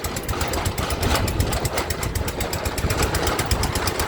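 The engine of a groundwater well drilling rig runs at a steady, loud chug with fast, regular pulsing, close by and continuous, with no voices over it.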